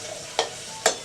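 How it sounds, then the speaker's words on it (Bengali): Potatoes frying in hot oil in a wok over a clay stove, a soft sizzle with two brief scraping stirs, without talk. "তেলটা গরম হয়ে গেছে, এবার আলুগুলো ভেজে নেব।"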